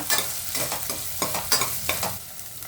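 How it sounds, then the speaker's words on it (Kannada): Pepper, cloves and cinnamon sticks frying in a pan, a close crackling sizzle broken by brisk scraping stirs in a quick irregular rhythm, no voices. "ಚಕ್ಕೆ ಒಂದು 3 ಪೀಸು. ಇದು ಸ್ವಲ್ಪ ಫ್ರೈ ಮಾಡ್ಕೊಳ್ಳೋಣ."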